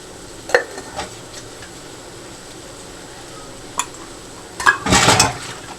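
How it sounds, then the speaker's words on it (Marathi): Breakfast dishes are washed by hand at home. Scattered clinks of metal pots and utensils give way to a brief, louder clatter and scrub near the end over a quiet background. "भांडी घासून घेते पहिली सकाळची नाश्त्याची"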